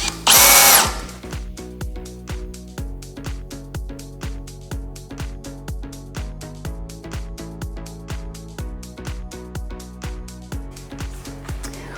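A power drill bores through a thin wall during workbench assembly for a DIY laser cutter, a steady whirring drone with rapid regular ticking pulses throughout, a loud burst at the start, close and alone without talk.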